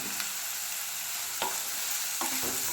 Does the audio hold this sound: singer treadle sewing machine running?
no